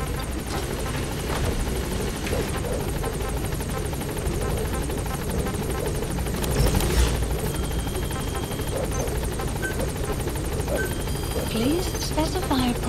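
A helicopter in the Metal Gear Solid V video game arrives at a landing zone in rain, its rotor a steady, loud, close drone that swells briefly midway, with faint voices in the background.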